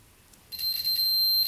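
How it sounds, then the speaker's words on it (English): A continuity tester beeps across a fuse on a 1967 Yamaha motorcycle that sat untouched in a barn for over 40 years, giving one steady high tone that starts after a short quiet moment and holds. "So we should hear a beep on this side right here."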